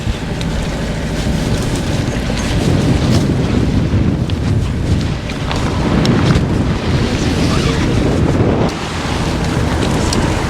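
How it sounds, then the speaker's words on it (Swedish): A sailboat's motor runs on autopilot with enough throttle to push against the wind on a sailing trip toward Läckö. A steady low engine drone sits under loud, continuous wind buffeting the microphone, with no talking. "motorn orkar hålla emot vinden."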